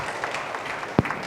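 Applause during a church worship service: a congregation's soft, steady clapping spread evenly through the short stretch, with one low thump near the end.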